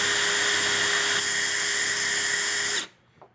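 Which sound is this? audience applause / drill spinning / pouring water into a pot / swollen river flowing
drill spinning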